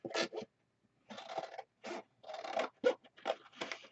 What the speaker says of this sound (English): I'll cut the bottom off.